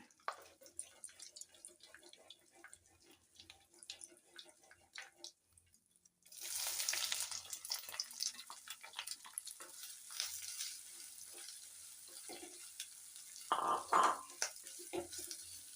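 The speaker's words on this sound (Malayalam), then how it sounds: "ആദ്യമായിട്ട് നമ്മൾ ഓണിയൻ വഴറ്റാം" Onions sautéing in a pan for a creamy mushroom kurma, a faint crackle at first, then a sudden louder hiss of frying that carries on with scraping stirs and a brief clatter near the end.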